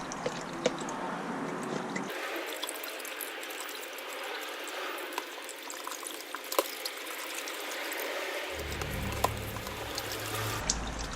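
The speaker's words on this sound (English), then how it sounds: "Just give that a shake until all the fluid comes out." Used pink coolant draining from a 2007-2013 Mini R56/R55 expansion tank into a tub: a steady close liquid trickle and pour, with a low gurgle building near the end and occasional small clicks.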